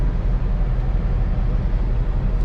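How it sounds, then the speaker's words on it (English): A truck sits idling with its engine on while the tires air up, a steady low rumble that holds even and close throughout, with no voices over it. "I got the truck on right now."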